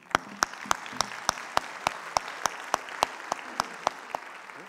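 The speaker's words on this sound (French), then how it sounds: "vous pouvez les applaudir" Sparse audience applause for two women taking the stage at a French literacy event: regularly spaced single claps ring out one by one, clear and fairly close, with no talk over them.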